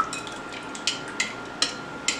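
Homemade Italian dressing stirred with a spoon, giving a handful of light, separate clinks and scrapes spaced out over a quiet background, fairly close and with no talking.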